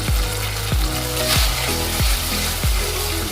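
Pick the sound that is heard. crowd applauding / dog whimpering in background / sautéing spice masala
sautéing spice masala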